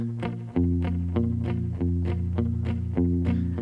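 Electric guitar plays the strummed chord pattern of the second verse of a song with a light effect, repeating rhythmic strokes at a steady tempo, close and clear with no voices.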